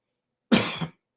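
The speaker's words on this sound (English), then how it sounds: "I had to clear my throat" A single short, gruff throat clearing, close and fairly loud, with silence before and after.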